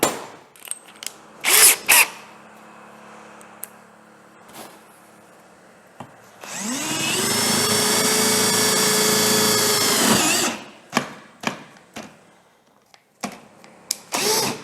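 An Einhell TP-CD 18/60 cordless drill drives a large screw in a steady whining run of about four seconds, framed by scattered clicks and handling knocks before and after.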